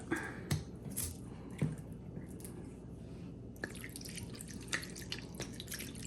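Food being washed with vinegar, with soft, faint drips and small splashes of liquid scattered irregularly over quiet room noise.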